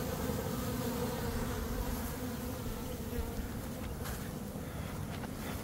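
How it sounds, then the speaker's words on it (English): Honeybee swarm around a hive box, a dense continuous buzzing drone, loud and close, steady throughout with no speech. "what's left of her swarm is finally in there, so we can close her up."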